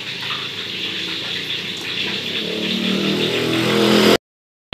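Water gushes steadily from a kitchen tap while sliced carrots are set to soak, a close, continuous rushing stream that swells slightly before cutting off abruptly.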